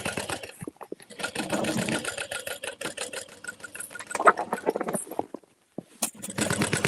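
A sewing machine top stitching a tote bag, starting where a strap will sit, runs in steady rapid bursts with a short pause near the end before resuming, close and clear.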